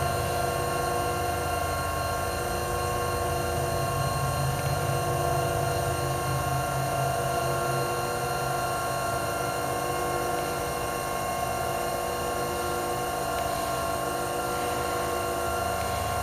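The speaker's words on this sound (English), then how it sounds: "Okay, let's go back to the grinder and take a thou off and set." Surface grinder taking a thousandth of an inch off a part, producing a steady, continuous high-pitched whine with tonal hum, constant and even throughout.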